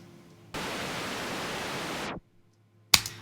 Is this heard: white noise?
yes